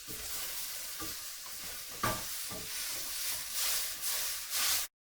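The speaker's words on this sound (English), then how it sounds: "So it's now cooking the vegetables." Vegetables for chow mein sizzle loudly in a hot wok, with a steady hiss and occasional scraping stirs, close by before the sound cuts off abruptly.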